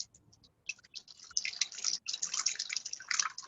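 Water trickling and dripping while poured for soaking brown bread in a home kitchen, starting with a few faint drips, then a steadier, close splashing pour with brief pauses.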